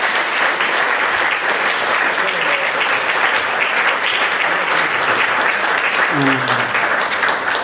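A church or lecture-hall audience applauds at the close of a talk, with steady dense clapping held at an even level throughout and a brief voice sounding over it near the end.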